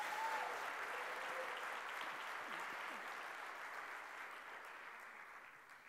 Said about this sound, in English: Can we have that big round of applause?